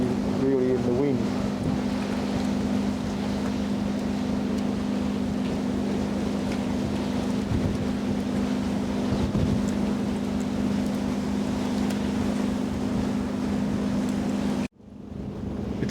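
Steady wind roaring over a boat at sea, with a low engine drone running underneath throughout, then a brief sudden cut near the end.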